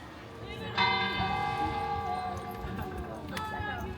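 The church bell of the Collioure bell tower rings out in ringing metallic strokes, one around the first second and another near the end, with long overlapping hum between them over a busy background of outdoor chatter and footsteps.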